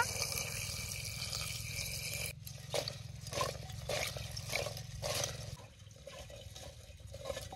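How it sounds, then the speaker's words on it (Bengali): Running water pours over live crabs as they are washed for a Bengali crab curry, a steady, close rushing hiss with splashy surges that change in tone as the flow shifts. "প্রথমে ক্যাকড়াগুলো আমি জল দিয়ে ধুয়ে নিব।"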